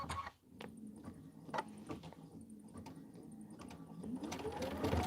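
Sewing machine stitching tack downs on quilt blocks, a quiet rapid mechanical whir and ticking with short bursts of stitching and pauses, close and faint, no talk.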